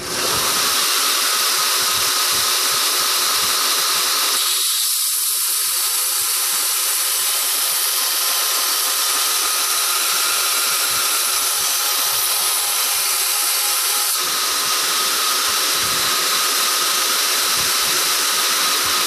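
Belt grinder running with 80-grit abrasive while a knife blade is thinned, a loud, continuous high whine with a steady hiss, the load changing slightly as the blade presses on, with no speech.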